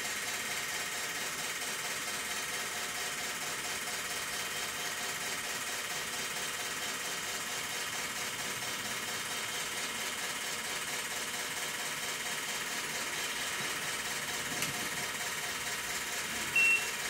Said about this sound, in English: And right now we're nothing. We're just running motors